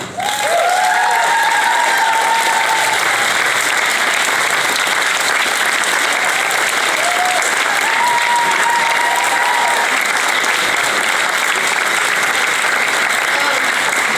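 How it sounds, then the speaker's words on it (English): An audience at an awards presentation breaks into sustained, even applause that fills the room for the whole stretch, with a few faint voices and cheers mixed underneath. "let's give it a round of applause for Pat"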